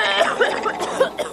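A person coughs and clears a throat thick with phlegm in a cough syrup radio advertisement, a few short, close, rough bursts in quick succession.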